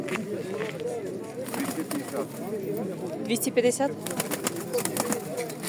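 Pigeons coo in soft, repeated throaty calls nearby, with brief flutters and outdoor background noise, at a town fair in Koziatyn, Ukraine.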